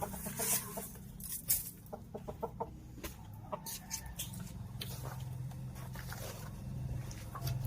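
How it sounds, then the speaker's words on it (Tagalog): Chickens pecking and softly clucking while eating leftover feed scooped from a drum, with scattered clucks and light pattering taps over a steady low background hum. "kain ng manok yan"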